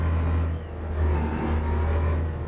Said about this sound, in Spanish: Y cada camión pues tiene su sonido.